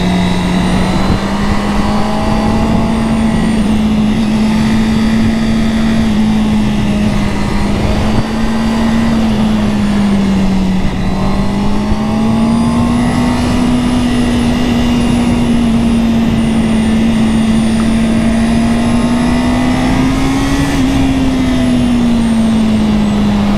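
A 2022 Honda CB650R four-cylinder motorcycle revs high above 8000 rpm. The engine note holds as a loud, continuous, buzzing howl, with pitch rising and falling as the throttle shifts. It stays steady throughout with no talking.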